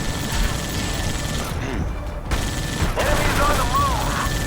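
Dense, loud gunfire from the video game Halo: Spartan Assault, a nearly continuous barrage of rapid shots and impacts with a short lull partway through, mixed with game effects and some voices.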